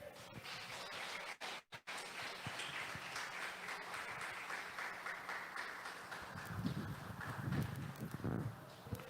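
Congregation applauding at a church service after a sermon, a steady wash of clapping throughout, dipping briefly near the start and swelling again toward the end.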